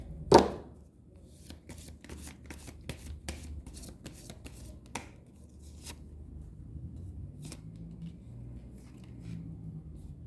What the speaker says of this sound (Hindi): One more shuffle.